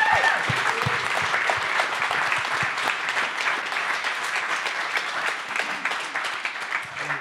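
Audience applause celebrating a milestone of 2,000 languages at a Bible translation update event, a dense steady clapping from a large crowd that carries on for the full stretch without letting up.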